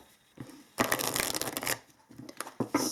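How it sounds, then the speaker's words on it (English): Tarot cards riffle and shuffle in a dense, papery burst lasting about a second, followed by a few shorter flicks and taps close by. "Shuffle a little bit before we pull 6 cards."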